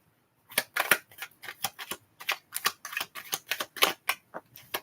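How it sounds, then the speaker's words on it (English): Tarot cards shuffled by hand, a rapid run of crisp close riffling snaps and taps in an uneven rhythm, with no voices. "Right, last shuffle."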